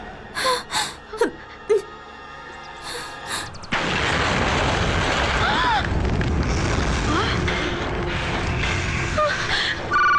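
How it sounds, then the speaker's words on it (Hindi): A loud, deep blast of an explosion outside a house erupts partway through, followed by sustained rumbling and crackling noise, after earlier gasping breaths and brief sounds. "देखा ना, अभी जो धमाका बाहर हुआ वो घर के अंदर भी हो सकता था"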